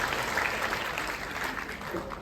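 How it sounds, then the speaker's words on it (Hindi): An audience claps in a hall at a university program, sending up a dense, steady wash of applause throughout. Faint voices can be heard beneath it. "एक बार जोरदार ताली से लेकर शुक्रिया अदा करता हूँ।"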